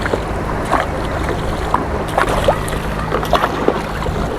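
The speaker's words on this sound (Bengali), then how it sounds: "ঢেউ শুরু হয়ে গেছে আমাদের নৌকাটাও প্রচুর দুলছে" A small fishing boat rocks on choppy river waves in gusty wind while hilsa fishing in stormy weather, giving a steady broad wash of wind and water with scattered soft knocks and splashes and no talking.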